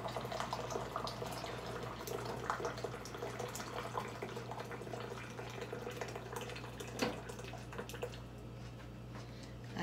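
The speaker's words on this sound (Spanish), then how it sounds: "Vamos a agregar otra tacita de agua caliente." Hot water being poured into a cup while making grape gelatin: a faint, steady trickle and splash of liquid over a low background hum, with a few small drips and clinks.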